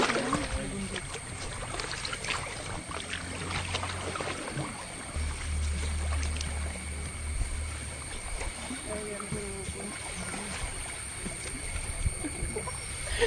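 Stream water flowing at Adavi, a continuous soft rushing wash with intermittent low rumbles, heard under people talking nearby.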